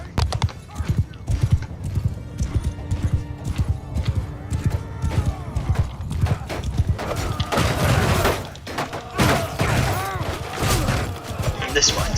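A horse gallops in Mount and Blade II: Bannerlord with rapid, rhythmic hoofbeats and a neigh, joined by clattering battle noise and impacts that build louder toward the end.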